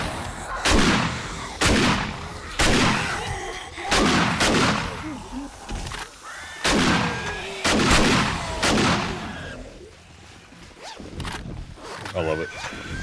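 Repeated heavy shotgun blasts hammer a wall in the zombie survival game 7 Days to Die, roughly eight loud booms at uneven intervals with pumping and clatter between, while a person talks over the action.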